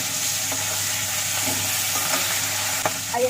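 Katla fish pieces fry in a pan, turned from side to side, giving a steady close sizzle with faint scraping and stirring touches, no voices.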